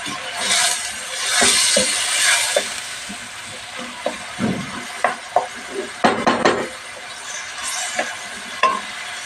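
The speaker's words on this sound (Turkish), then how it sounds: "Soğanın çabuk kavrulması için bir tuzunu atıyorum." Onions with salt frying in a pot for okra stew, a soft steady sizzle with scattered close clinks and scrapes of a spoon stirring against the pot.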